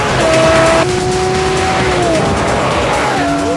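A Lamborghini Murcielago LP640 driving fast, its loud engine note holding and shifting pitch as it moves, with tire squeal and a constant roaring wind wash, and no speech.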